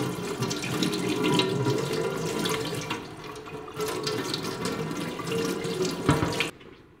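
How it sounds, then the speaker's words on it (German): Hot water runs steadily from a tap over the brew unit of a De'Longhi ECAM coffee machine, a continuous sink splashing and gurgling that fills the whole stretch and cuts off abruptly near the end. "Lass doch mal schön heißes Wasser drüber laufen."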